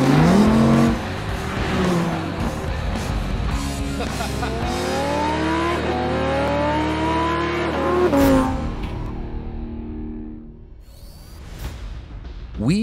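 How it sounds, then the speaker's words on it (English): Engines roar and rise through gears as a 2022 BMW M5 CS, a 1000 hp AMG E63S and an 880 hp Audi RS6 drag race, loud accelerating passes fading into the distance, with a voice faintly beneath. "this is a pretty crazy drag race"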